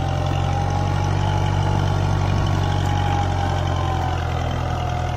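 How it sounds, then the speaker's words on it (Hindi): A Kubota MU 4501 tractor pulls a fully opened harrow through a field, its diesel engine droning loud and steady with a deep continuous rumble. "पूरी हैरो खोलने के बाद देखते हैं ट्रैक्टर कितनी स्पीड से चलेगा।"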